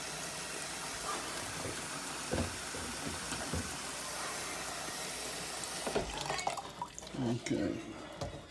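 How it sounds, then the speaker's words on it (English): Water is poured into a bowl of dried lentils in a home kitchen, giving a faint trickling and splashing that fades in and out, with a few soft knocks toward the end. "So I'm gonna put in plenty of water in there."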